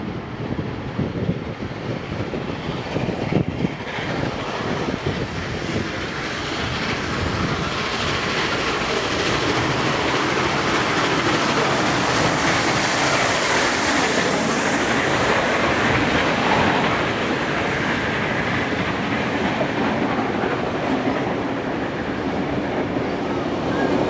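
Steam locomotive 6029 hauls a heritage train past in New South Wales, a loud continuous roar of wheels and carriages building up and holding close, with wind buffeting the microphone.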